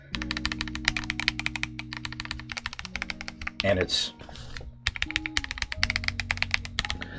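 Rapid, steady clacking of a ProtoArc x RoyalAxe L75 gasket-mount mechanical keyboard with Gateron G-Pro Yellow switches typed on up close, with a brief pause and a couple of spoken words partway through.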